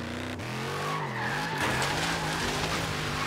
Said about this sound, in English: Today we're driving this Hellcat.